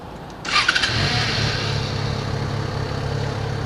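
A Yamaha FZ6R motorcycle engine starting up close, a brief starter crank that catches quickly and settles into a steady, fairly quiet idle.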